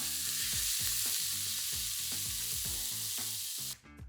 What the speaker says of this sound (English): Add in the beef pieces and brown them on all sides.